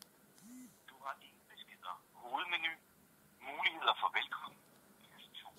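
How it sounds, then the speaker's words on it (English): Test call on a Doogee Kissme DG580 budget smartphone played through its loudspeaker, a brief tone followed by a thin, tinny voice talking in short bursts over a quiet background. "So now I'm going to make a test call."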